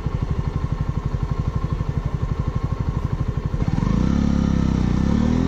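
A motorcycle passes close by in traffic, its engine throbbing in a rapid, steady putter before rising into a loud, sustained rev.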